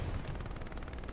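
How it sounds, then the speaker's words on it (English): Heavy automatic gunfire from the Lux vehicle in the World War II shooter Hell Let Loose, Hurtgen map: a dense, continuous stream of rapid loud shots with rumbling low end, no talk. "you can see how powerful those gunshots are from it"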